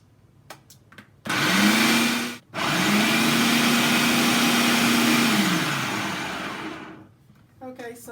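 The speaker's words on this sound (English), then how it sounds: "And I'm going to set it up to blend." A food processor blending chopped vegetables for a vitamin-rich bouillon whirs loudly in two bursts, a short spin followed by a longer steady run that winds down, with a brief pause between and faint handling noises around it.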